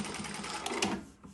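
A Prosew PS-1985 industrial sewing machine runs a quick burst of close stitching, reversing and then stitching forward, and ends with a brief mechanical thread-trim clack.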